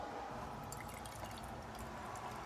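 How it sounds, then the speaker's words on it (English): Wild Man beer pours from a crowler can into a glass with a soft, continuous trickle and light splashing, quiet and close. "I hate pouring these crowlers."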